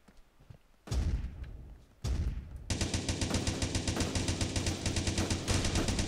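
Shotgun fire in the block-style shooter game Blockstorm, a burst of heavy blasts followed by a long stretch of rapid continuous gunfire, loud and dense, with no talk over it.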